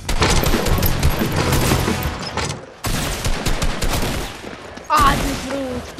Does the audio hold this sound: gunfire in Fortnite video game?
yes